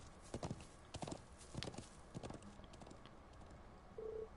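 Horse hooves clip-clop in the video game Trails of Cold Steel 4, a series of close, uneven trotting beats, joined by a short electronic beep near the end.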